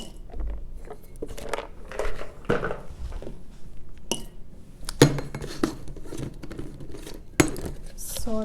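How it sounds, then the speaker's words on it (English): Cashews and nuts tumble into a bowl while making homemade trail mix, giving a run of small clinks, rattles and dish knocks, some sharp and close, spread across the stretch with a few louder impacts. "Add some cashews."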